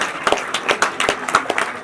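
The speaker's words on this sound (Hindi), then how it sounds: "सभी तालियां बजाएं।" An audience claps together in a quick, dense patter at a retirement programme, welcoming the inauguration of a room, a short, loud burst of applause.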